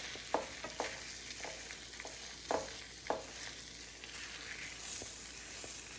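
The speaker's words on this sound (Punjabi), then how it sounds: "ਸਪੈਚੂਲਰ ਦੇ ਨਾਲ ਇਹਦੇ ਜਿੰਨੇ ਵੀ ਹੈਗੀਆਂ ਇਹਨੂੰ ਇਦਾਂ ਆਪਾਂ ਮੈਸ਼ ਕਰ ਦੇਣਾ ਹੈਗਾ" A spatula mashes and mixes jaggery and flaxseed in a warm pan for pinni, giving repeated close, sharp scraping strokes at an uneven rhythm over a soft steady sizzle, with no voices.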